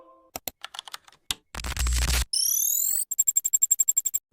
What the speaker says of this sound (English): UI sound effect.